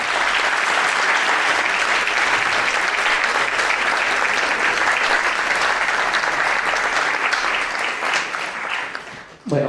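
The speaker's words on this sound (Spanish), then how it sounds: "Yo pediría nuevamente un aplauso para todos," Loud, sustained applause from a seated audience at a formal book presentation event, steady clapping filling the room for several seconds before tapering off abruptly at the end.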